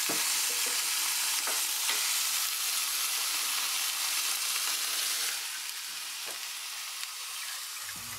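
Cooling oil nearly boiling inside an oil-cooled PC under gaming load, giving a steady, loud frying-like sizzle and hiss that holds throughout and eases slightly toward the end, with no voices.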